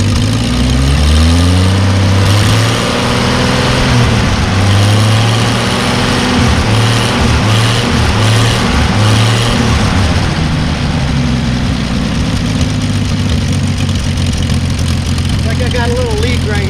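An old truck's engine runs loud and steady throughout, with rough low rumbling and a few revs in the first half before it settles back toward a heavy idle, and no talk is heard over it.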